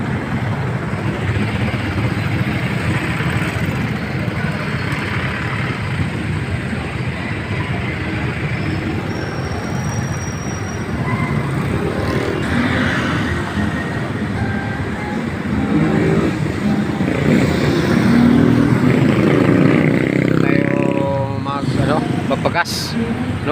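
A motorcycle engine drones continuously while riding at night toward a Petron petrol station, a loud steady road rumble that swells and intensifies toward the end.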